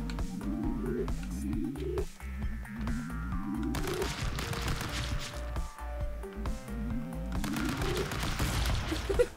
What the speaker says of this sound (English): I keep shooting. Just like that.